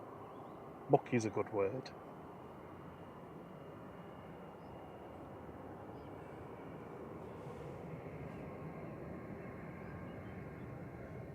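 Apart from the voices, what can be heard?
Iberia airliner departing to Madrid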